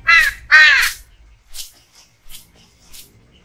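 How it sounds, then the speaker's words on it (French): Crow cawing in the video game Grim Legends: two loud, close harsh caws in quick succession, followed by softer, shorter calls spaced apart. "Oh, un corbeau."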